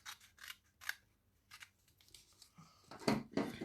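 Scissors snip through cardstock for a handmade card, a series of short crisp cuts spaced out over a few seconds, close and clear with no talking.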